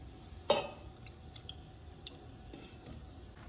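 Soaked, washed rice is squeezed by hand for idli batter, giving one sharp wet squelch followed by soft, faint squishing and dripping sounds in a quiet room.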